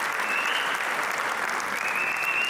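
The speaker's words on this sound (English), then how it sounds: "A big round of applause." Steady, dense applause from an audience at an opening ceremony in Houston fills the space throughout, a continuous wash of many hands clapping with no breaks.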